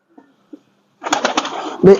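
A Chinese breed pigeon coos and rustles close by, a couple of faint soft notes first and then a fuller burst of cooing and fluttering, with no clear talk over it.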